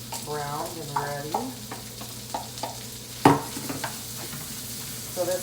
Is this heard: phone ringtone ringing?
no